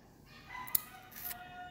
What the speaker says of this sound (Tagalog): Hayaan natin ang manok.